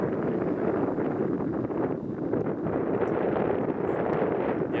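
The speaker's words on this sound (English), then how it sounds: "now the wind is kind of rough" Rough, gusty wind at a sailing spot, gusts up to 15 knots, roars continuously and loudly across the microphone as a dense, steady rumble with no quiet gaps.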